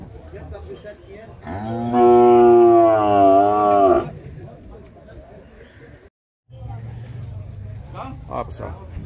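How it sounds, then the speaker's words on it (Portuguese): Cattle low loudly in a pen at a livestock fair in Canafístula, Alagoas, Brazil, with one long, drawn-out moo near the mic, then lighter lowing and herd noise. Someone talks before and after the call. "Isso aqui é o gado aqui no curral do João"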